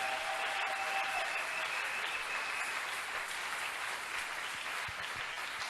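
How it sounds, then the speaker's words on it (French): A church congregation applauding in acclamation of the name of Jesus, sustained dense clapping from many hands that stays steady and full from start to finish. "On peut acclamer le nom de Jésus."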